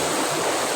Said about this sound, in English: A tributary of Athi River, guys.